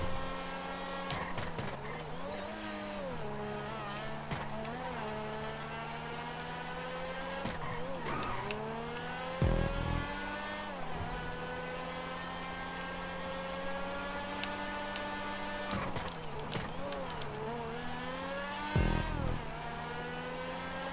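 An Overflod Tyrant supercar drives in Grand Theft Auto 5, its engine note rising and falling through repeated revs and gear shifts, with occasional brief bumps and tyre noise.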